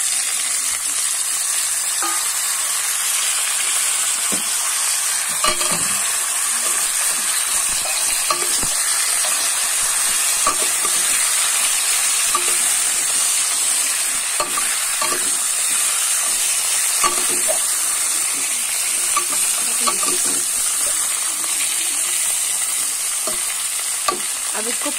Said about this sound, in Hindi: अब इसको ऐसे फ्राई करेंगे।